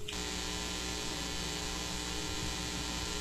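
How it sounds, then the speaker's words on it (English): A steady electrical hum with a buzzy, noisy edge, produced by playing back recorded electromagnetic radiation, continuous and even throughout with no voices. "So you're going to be hearing some humming noises."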